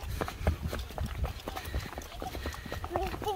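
A horse running across open parkland at Ham House in Richmond, London, its hoof clip-clops sounding as a steady rhythm under excited shouting and chatter from people chasing after it.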